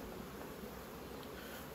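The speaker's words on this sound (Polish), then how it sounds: "Tutaj mamy wściekłe pszczółki." Angry honeybees buzzing around the back of a hive in an apiary, a steady dense drone of many insects close by with no gaps.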